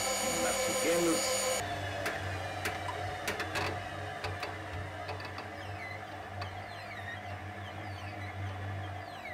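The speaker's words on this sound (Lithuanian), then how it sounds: "taip pat ir dirba šitas mecukėlis" Homemade honey extractor spinning honeycomb frames, a steady mechanical whir with a low motor hum and clattering rattles running throughout, fairly close and continuous.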